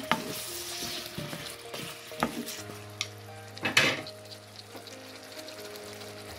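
Pumpkin and dried fish curry being stirred in a pan, with a steady low sizzle under scraping and clinking of the spoon against the pan, and a sharper clatter near the middle.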